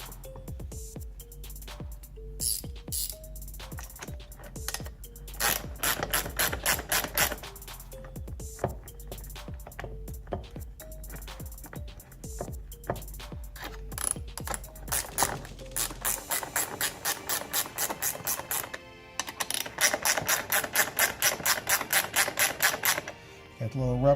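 Screws being driven into the mounting plate of a Power Pole anchor pump in a garage, heard as repeated ratcheting clicks and short mechanical bursts that grow denser and louder toward the end.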